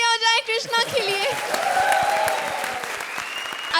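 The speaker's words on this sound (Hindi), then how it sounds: "एक बार जोरदार तालियां हो जाए कृष्णा के लिए" A comedy show studio audience applauds loudly for Krishna, with brief voices and musical tones at the start before crowd clapping takes over and continues with a sustained tone beneath it.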